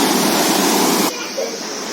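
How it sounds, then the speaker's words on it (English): Spring water flows in Achabal garden in Kashmir, a loud, steady rushing splash that abruptly drops to a softer, lower murmur partway through, as though heard from a slightly different spot. "I am going to take you to the spring from where the water is coming out."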